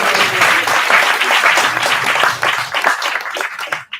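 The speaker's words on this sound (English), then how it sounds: "Give a big round of applause to Padmanayan Prabhu." An audience at a graduation convocation ceremony breaks into sustained applause, dense clapping that swells and fades over a few seconds before tapering off at the end.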